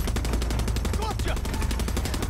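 Rapid bursts of automatic gunfire from a Far Cry 6 firefight, a dense rattling volley that runs steadily through the whole moment at close range, loud and continuous with no talking over it.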